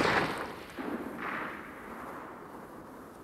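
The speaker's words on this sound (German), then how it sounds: "bis die ersten Schüsse fielen." Several sharp gunshots crack in a German audio drama of Treasure Island during the defence of a blockhouse, a quick loud burst of shots followed by quieter, more distant reports fading into background noise.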